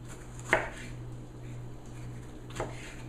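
A knife slices through ripe tomatoes for drying in a dehydrator, making two brief, soft cuts about two seconds apart over a quiet background hum.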